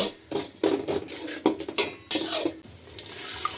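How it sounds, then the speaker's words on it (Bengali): Spices, a mixed masala with roasted cumin powder, are stirred in a pan for khichuri, with irregular scraping and clinking strokes of a utensil against the metal, close and fairly loud, with no talking. "ভালো করে নেড়ে ছেড়ে তারপর মশলাটাকে ভালো করে কষিয়ে নিব"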